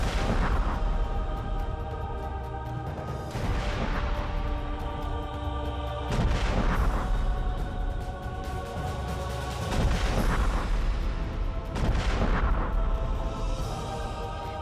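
Repeated heavy booms from the explosion in Beirut, Lebanon, rolling in loud bursts roughly every two seconds over a dense rumbling background, with no voices.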